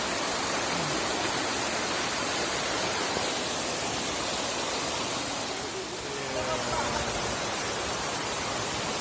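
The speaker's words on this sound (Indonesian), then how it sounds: "Suasana di air terjun" A loud, constant roar of the seven-tier Tapaktuan waterfall in Aceh fills the whole stretch, dense and unbroken, with faint voices briefly audible beneath it.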